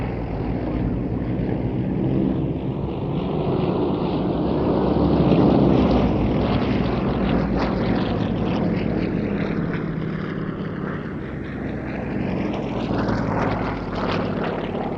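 Aerostars aerobatic team flying a close formation display at the IWM Duxford Battle of Britain Airshow, a continuous loud propeller-engine drone that rises and falls with Doppler-like pitch sweeps as the aircraft pass, with some wind buffeting.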